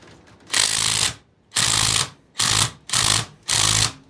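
A wrench or impact tool running on a bolt in five loud, separate bursts of about half a second each, with short gaps of quiet between them.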